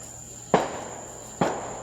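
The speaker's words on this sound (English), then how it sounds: "I got some dumbass over there shooting fireworks" Fireworks go off nearby as two sharp, loud bangs about a second apart, each trailing off in a short echo over a faint steady insect-like hum.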